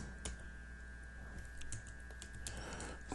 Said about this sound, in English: I'm going to type this in as no repeat